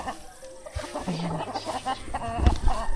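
Chickens cluck in short, soft bursts around a farmyard, fairly close but modest in volume, with a few sharper calls near the end.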